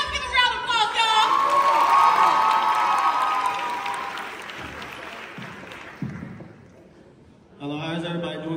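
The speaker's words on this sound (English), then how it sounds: "Let's give a round of applause, y'all." A college crowd at a Greek life meet-the-fraternities event applauds and cheers for the brothers of Lambda Sigma Upsilon Latino Fraternity, loud clapping with shouts and whoops that fades, then a voice begins speaking near the end.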